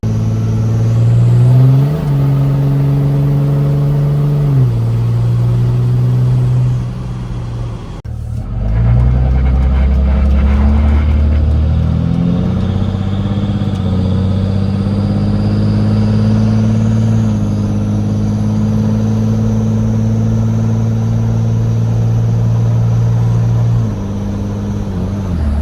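A new truck engine droning steadily while driving on the road, a loud continuous mid-pitched hum with gear changes and pitch rising as it accelerates, heard from inside the cab with no talking.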